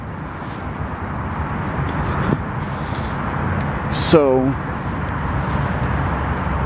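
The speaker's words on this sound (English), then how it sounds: "I do apologize for the traffic noise, but I'm pretty much right next to a major interstate highway," Steady broadband roar of traffic on the nearby I-355 interstate highway, heard from roadside close by and continuous throughout, with someone talking over it and a brief passing whine partway through.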